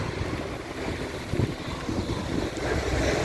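Strong wind buffeting the microphone, a constant rough roar with gusty swells and no voices.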